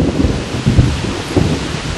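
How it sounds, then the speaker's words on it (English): Rain falling in a forest with low thunder rumbling through it, a dense steady wash of rain with soft irregular low thumps, close and continuous with no talk. "Rains come as expected"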